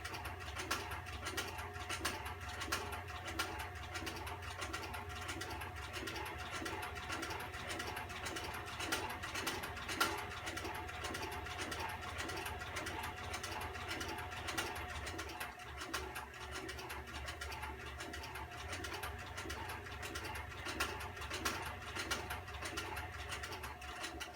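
A belt-making stitching machine for holsters runs continuously with a rapid, repetitive mechanical chatter and a low hum, steady and close for the whole stretch, no voices.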